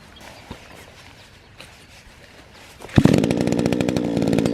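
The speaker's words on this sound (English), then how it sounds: "He's string trimming that bank pretty good." String trimmer cutting grass on a bank: after quiet outdoor background with faint knocks, the engine revs up sharply and keeps up a loud buzzing whine close by, with no talk.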